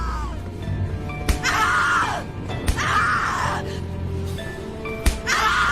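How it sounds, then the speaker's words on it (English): A woman's drawn-out anguished screams in the Cat Lady horror video game, repeated three times over a dense, droning music bed with sharp thuds between them. "Scream louder, little bitch! Scream your lungs out!"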